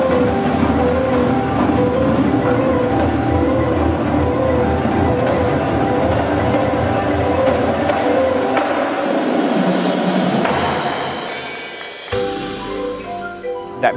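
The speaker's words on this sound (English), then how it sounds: "where the train starts to start up again" A train starts up and runs in a loud, close, steady rumble with rhythmic rail clatter. The rumble thins after several seconds, then gives way to metallic squeals and clanks toward the end.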